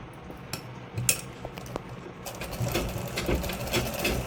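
A sewing machine stitches along the edge of a saree, starting with intermittent short bursts of rattling stitching and then running steadily and louder for the second half, close by with no talk.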